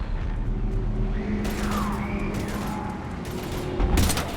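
Gunfire in the video game Mass Effect 3, with broadband bursts of shots and impacts over a steady game soundscape, loudest near the end, with no talk.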